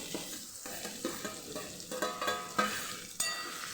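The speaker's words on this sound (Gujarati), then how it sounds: "મસાલો અને ટમેટા સરસ સતળાઈ ગયા છે મસ્ત એવી સુગંધ આવે છે અને આપણે તુરિયાનો અહીંયા ઉમેરી દઈશું" Chopped ridge gourd being stirred into a pan of frying masala and tomatoes, a gentle steady sizzle punctuated by repeated scraping and tapping strokes of a spoon, close and fairly quiet with no voices.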